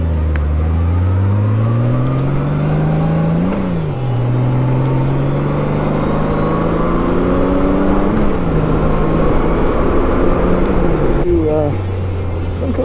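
A motorcycle on a road ride near Tampa accelerates through the gears, its engine note climbing in pitch, dropping at each shift and climbing again several times, loud and close over steady wind rush.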